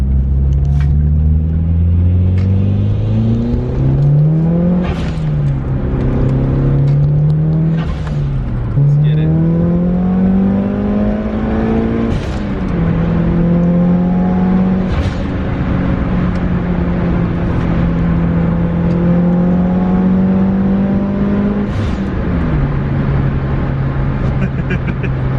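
A turbocharged Mitsubishi Lancer Evolution VIII with about 400 wheel horsepower revs hard in the rain and climbs through several gears, its droning pitch rising and dropping at each shift, loud and continuous from inside the car.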